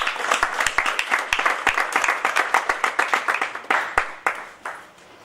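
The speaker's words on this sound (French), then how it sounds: "est-ce que vous pouvez déjà applaudir pour vous-même?" A small indoor audience applauds with dense, close, overlapping hand claps that thin out and fade toward the end, with no talking over them.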